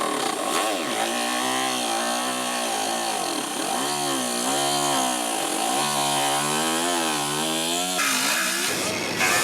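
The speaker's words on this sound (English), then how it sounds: "We need to cut grooves where the panels overlap to relieve stress on the quarter." A power tool whines loudly and continuously while cutting grooves into overlapping car body panels on a quarter panel repair, its pitch rising and falling with the load and ending in a brief harsher burst.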